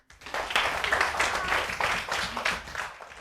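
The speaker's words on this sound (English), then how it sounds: "Give him a clap." A class of schoolchildren claps for a pupil in a brief burst of applause lasting about three seconds, rising quickly and fading out at the end.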